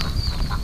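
Ducks quacking beside a flooded, rain-soaked swamp area, a short burst of close, loud quacks and honks from several birds.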